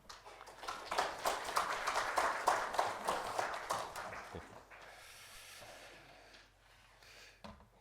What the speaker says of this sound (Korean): 목사님을 박수로 환영하도록 하겠습니다